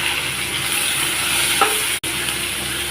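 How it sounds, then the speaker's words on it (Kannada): Onions fry in a hot pan with turmeric for a spicy avalakki (flattened rice) dish. A steady, close sizzle runs throughout, with a brief stirring scrape near the middle. "ನೆಕ್ಸ್ಟ್ ನಾನು ಈರುಳ್ಳಿ ಹಾಕ್ಕೊತಾ ಇದ್ದೀನಿ"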